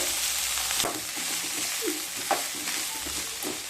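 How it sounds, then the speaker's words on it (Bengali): Vegetables for vegetarian chowmein frying on high heat: a steady sizzle runs throughout, broken by several scraping stirs of a spatula in the pan, close by, with no talk. "যখন ভেজিটেবলসগুলো ভাজবেন তখন কিন্তু স্টিম অতি অবশ্যই হাইতে রেখে ভাজবেন"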